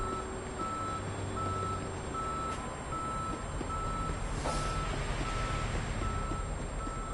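Steady, evenly spaced reversing beeps from a tow truck in the Police Simulator video game, heard clearly above a low engine rumble with a brief hiss partway through.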